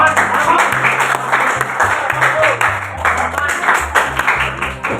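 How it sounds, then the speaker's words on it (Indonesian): Classmates clap for a student group called up to present in a university classroom, scattered applause lasting several seconds over a low background hum, with some voices in the room. "Boleh kasih tepuk tangan ya?"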